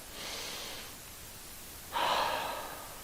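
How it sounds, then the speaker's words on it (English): Two slow, deep breaths during a meditation stretch, a soft airy inhale followed by a stronger, louder exhale, close and quiet in a still room. "let's take 5 breaths here"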